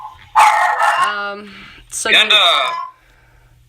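A pet dog barks indoors during a podcast recording: two loud, close yelping bursts a second or so apart, with a voice overlapping.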